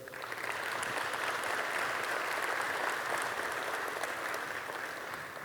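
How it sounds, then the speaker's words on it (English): An audience at a pizza industry expo keynote applauds in a dense, even wash of clapping that holds steady from start to finish, moderately distant, with no one speaking over it. "Let's give a round of applause to Big Dave."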